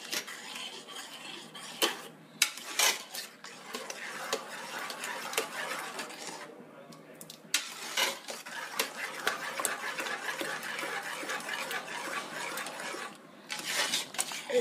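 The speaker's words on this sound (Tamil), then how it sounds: "கரண்டியில் நம்ம நல்லா அப்படி மசிச்சுட்டு" A ladle mashing fasting-porridge ingredients in a pot, repeated metallic scrapes and clinks in uneven bursts with short pauses between, close and clear with no speech.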